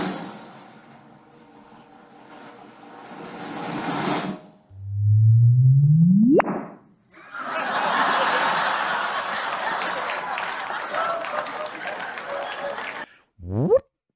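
Sonified gravitational-wave chirp from merging black holes, a low tone sweeping rapidly upward into a whoop over about two seconds, set between stretches of crowd noise and laughter.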